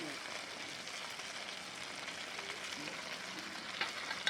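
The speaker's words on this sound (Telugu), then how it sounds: "ముందుగా శుభ్రం చేసి పెట్టుకున్న గోంగూరని సన్నగా తరుక్కొని అది కూడా వేసుకొని వేయించుకోవాలి." Gongura leaves frying in a pan with nethallu dried fish, giving a steady soft sizzle and crackle throughout, with faint stirring clicks near the end.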